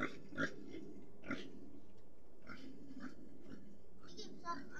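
A pig kept at a farm hut in the countryside grunting in short, repeated bursts, fairly close, mixed with a voice and other talk over steady outdoor background noise.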